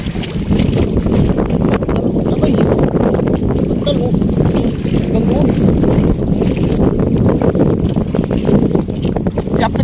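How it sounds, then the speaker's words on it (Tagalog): Strong wind roars across the open sea around a small fishing boat, a loud, continuous buffeting rush hitting the microphone with no break for the full stretch. "Hangin na naman"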